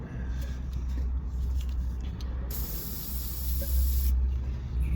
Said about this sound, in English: Give it a bit of a squirt.